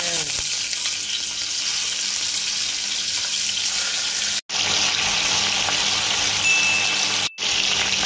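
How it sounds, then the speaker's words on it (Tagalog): Half-cooked chicken pieces for pininyahang manok fry in a pan with a loud, steady, close sizzle and crackle that runs throughout, broken by two brief cuts to silence. "i-half cook natin guys itong ating chicken"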